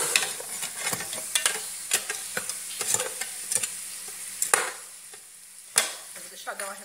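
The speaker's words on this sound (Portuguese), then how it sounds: "minha cebola aqui fritando" Onion sizzles in a pan for a Brazilian suã with vegetables, a steady frying crackle broken by repeated scraping and knocking as a utensil stirs it, close and unaccompanied by talk.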